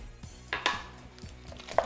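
A spoon stirring canned green chilies into a jalapeño dip in a bowl, giving a few soft scraping clinks against the dish at a close, quiet level.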